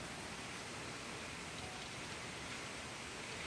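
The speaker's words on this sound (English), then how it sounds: "the rain is coming down. Yeah, it's coming down hard." Heavy, wind-driven sideways rain during Hurricane Irma forms a steady, dense hiss of falling water, fairly faint and unbroken throughout, with no voices.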